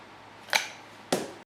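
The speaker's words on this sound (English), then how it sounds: "now I'm going to use a pair of cable cutters." Cable cutters snip through an e-brake cable in two sharp, brief clicks about half a second apart, close and fairly quiet.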